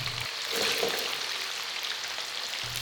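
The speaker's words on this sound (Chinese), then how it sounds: "把油热一热后，肉直接下锅，" Pork belly dropped into hot oil to deep-fry, giving a soft, steady sizzling hiss with a brief surge of bubbling just after the meat goes in, faint and continuous throughout.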